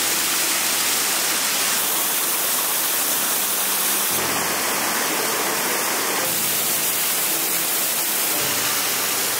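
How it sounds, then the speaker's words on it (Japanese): The Gyoja waterfall in Nishiokoppe, Hokkaido roars in a steady, dense rush of water, loud and continuous with no voices. "綺麗な滝だね。"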